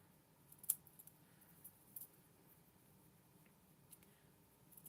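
A few faint, sparse snips of scissors cutting through card, separated by quiet pauses in a still room.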